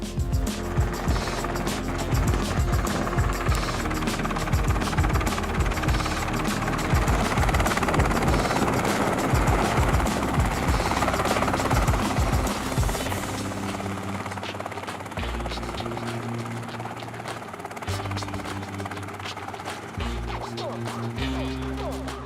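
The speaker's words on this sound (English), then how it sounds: "there is no actual footage of that helicopter landing on it" A helicopter's rotor chops loudly and continuously, then the heavy thumping thins out and settles as it comes down.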